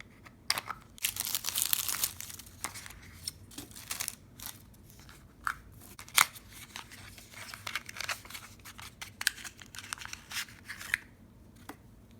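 Packaging for a 10 ml bottle of Born Pretty Jelly White gel nail polish being opened, with crisp crinkling, tearing and snipping noises in irregular bursts close by, no talking.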